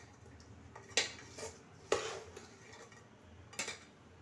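Chana chaat ingredients with kinnow juice being mixed in a bowl: a few sharp clinks of a spoon against the dish at irregular intervals over a quiet background, close and fairly soft, no talking.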